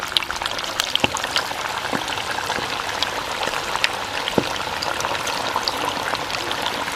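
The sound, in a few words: chicken pieces frying in hot sunflower oil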